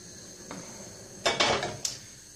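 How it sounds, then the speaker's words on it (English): A metal frying pan set down on a stove, with a few sharp clanks and knocks of cookware close by, one light tap followed by a cluster of louder clatters. "So we need to get a hot frying pan on."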